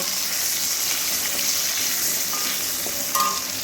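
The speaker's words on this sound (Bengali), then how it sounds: "আলুগুলোকে আগে থেকে ভাজা হয়নি সেই জন্যই এই তেলের মধ্যে দিয়ে এবারে একটু ভেজে নেব" Potatoes fry in hot oil with a pinch of turmeric powder, giving a steady, close sizzle that runs unbroken throughout, with a few faint clinks near the end.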